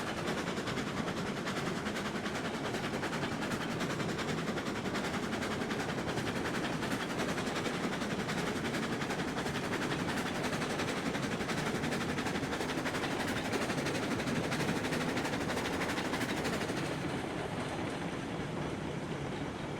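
A train in the railroad game Railroads Online rumbles along continuously with rhythmic clacking of its wagons, loud and steady for the whole stretch, with no talking.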